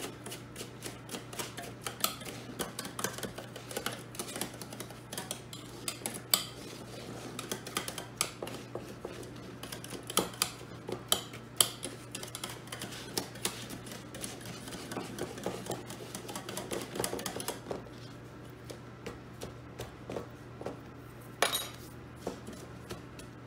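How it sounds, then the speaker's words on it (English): A spoon pressing a graham cracker crumb base into a pan for pumpkin cheesecake, a long run of rapid small taps and scrapes against metal, faint and close, thinning out near the end with no voices. "Get a spoon in there. Really press it down."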